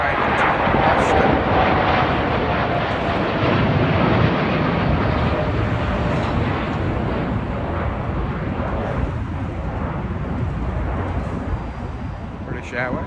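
A United Airlines Boeing 787-9 bound for Boston at London Heathrow gives a loud, continuous jet roar that swells and slowly eases over several seconds.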